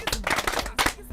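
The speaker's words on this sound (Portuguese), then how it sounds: "Uma salva de palmas para o nosso tio Hassani." A short burst of audience applause greets a speaker at a reading-awareness gathering in Tete; the dense clapping sounds close and fairly loud, and it fades within about a second.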